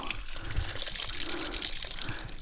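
Water drains from an RV hot water heater tank, a close, steady gushing and splashing flow that runs without a break.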